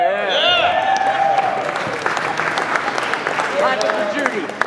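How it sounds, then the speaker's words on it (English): An audience at an Airman Leadership School graduation applauds the honorary command chief, steady clapping running under a voice speaking over it, with squealing microphone feedback and tones at the start and again near the end. "Clap for Judy."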